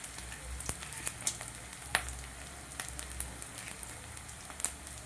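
Peanuts fried in oil for mint fried rice, a soft, quiet sizzle with scattered small pops and crackles close by, no voices over it.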